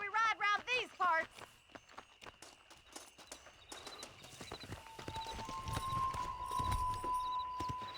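Rhythmic hoofbeats of a galloping horse in Red Dead Redemption during a race, steady clip-clop thuds running under game music with a sustained tone, preceded by a short burst of a voice or whinny at the start.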